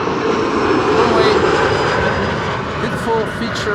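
A jet airliner roars steadily during its takeoff run from the center runway at Amsterdam Schiphol Airport, a loud, continuous engine rumble with a broad hiss that holds its level for the whole stretch.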